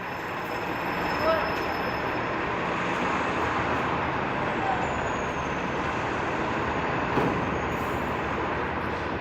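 Steady, loud rumble of buses in a busy bus bay, with a faint metallic squeal as large vehicles idle and move through.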